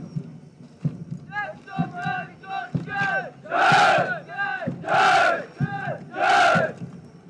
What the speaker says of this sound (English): They will cheer the cadets of the passing out course.